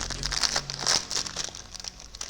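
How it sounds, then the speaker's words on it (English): A plastic bag of moss being opened, crisp crinkling and rustling in several short bursts up close, with quieter handling in between. "So we're going to open up our moss bag"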